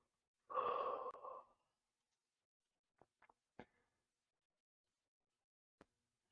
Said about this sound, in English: let's deepen the breath.